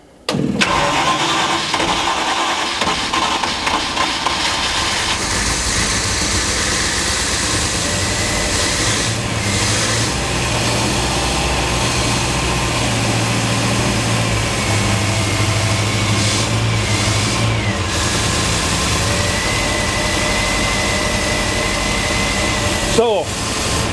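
A 101 Landi engine with unbalanced carburettors cranks and catches with the choke on, then runs loudly and steadily at a rough idle close by, with a few sharp knocks and a brief drop near the end.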